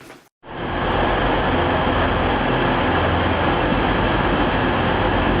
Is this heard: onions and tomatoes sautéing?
no